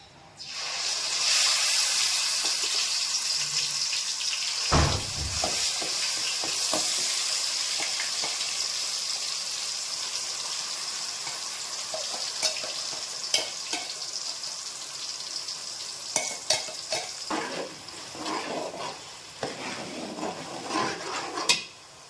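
Chicken curry ingredients fry in hot oil, a steady bright sizzle running throughout with a thud near the start and scattered clinks and stirring clatter toward the end.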